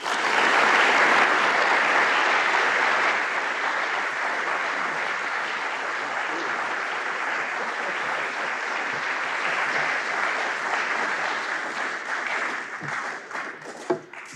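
A large audience applauds steadily for about fourteen seconds to welcome a distinguished lecturer at a lectureship event, the dense, even clapping tapering slightly near the end with a few isolated claps.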